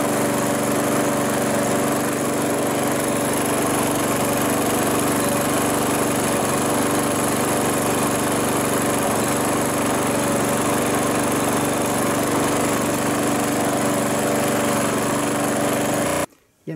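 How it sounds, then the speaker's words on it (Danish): An MTD lawn mower engine runs steadily outdoors while warming up before an oil change, a loud, constant high-revving drone that holds unchanged before cutting off abruptly at the very end. "Så kan den godt komme udenfor og køre lidt, så motoren den bliver godt varm"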